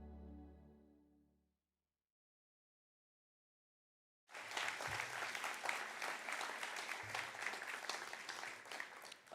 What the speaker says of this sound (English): I think that deserved a round of applause.